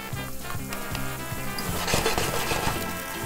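Onions sizzling in a pan for lentil soup, a steady close crackle and hiss with some faint stirring scrapes and no talk.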